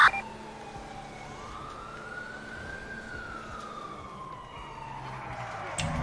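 Police car siren in the video game GTA V, a wailing tone rising and falling steadily at moderate distance over a low engine rumble, with a brief knock at the start and end.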